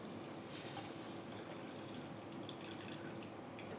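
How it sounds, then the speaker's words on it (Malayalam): Faint, steady splashing of water being poured into a fish curry vessel, soft and continuous for a few seconds. "ആദ്യമേ ഈ വെള്ളം ഒഴിച്ചു കൊടുക്കുക"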